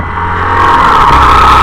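A Hero Glamour XTec 125 motorcycle accelerates in second gear, its engine drone loud, close and rising steadily over a short stretch.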